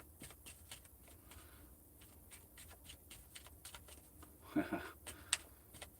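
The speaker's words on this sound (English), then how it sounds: "We're going to just shuffle that up a little bit." A half deck of playing cards shuffled by hand at an outdoor allotment, giving quiet, repeated soft riffling and tapping with a louder flurry of card snaps near the end.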